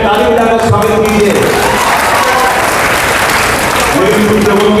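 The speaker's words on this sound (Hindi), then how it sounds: "ताली बजाकर स्वागत कीजिए।" A crowd at a political gathering in Malegaon applauds and claps steadily throughout, loud and sustained, with a voice speaking over it at the start and end.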